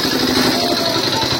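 A vehicle engine runs at a steady, loud, close idle-like drone as it carries off cattle bought at a cattle market, vibrating evenly without a break and with no clear speech.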